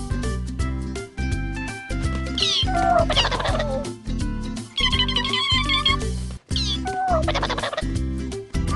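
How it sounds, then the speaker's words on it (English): Cartoon turkey gobbling in a children's English reading lesson: repeated warbling gobbles rise over steady, bouncy background music. "bird"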